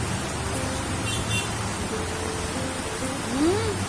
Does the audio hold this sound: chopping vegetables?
no